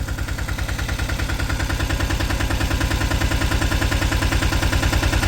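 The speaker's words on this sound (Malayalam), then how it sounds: "ഇപ്പം നമ്മുടെ വണ്ടിയുടെ എൻജിൻ അങ്ങോട്ട് സൗണ്ട് വരാൻ തുടങ്ങിയിട്ടുണ്ട് കേട്ടോ" A vehicle engine runs steadily nearby, its loud even thumping beat repeating rapidly without change.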